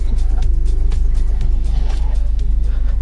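Cars idle and move at a busy car wash while workers scrub and rinse vehicles, a steady engine hum with scattered splashes and clatter close by.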